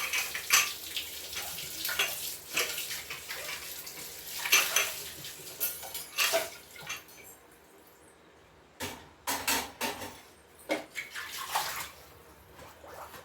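Running water splashes in a sink while dishes and a metal pressure cooker clatter and scrape in irregular bursts, close by.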